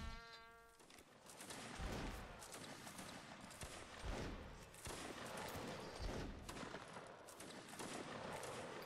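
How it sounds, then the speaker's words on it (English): Musket volleys from a Napoleonic rifles battle reenactment, with repeated sharp cracks and echoing reports in a dense, continuous stretch of firing and outdoor noise, fairly distant. "Do you want to continue firing?"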